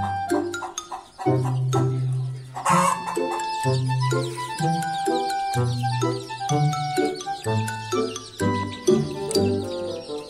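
A hen clucking repeatedly inside a box of young chicks, with short rhythmic clucks close to the microphone and faint chick peeps around them.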